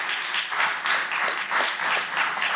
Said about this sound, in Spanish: Denle fuerte aplauso a aquellos que han entendido